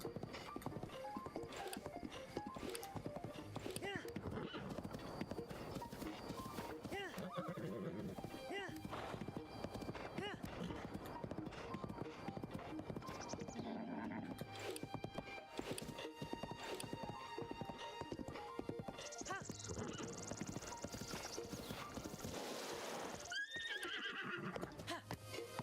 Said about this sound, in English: This horse does not want to cooperate.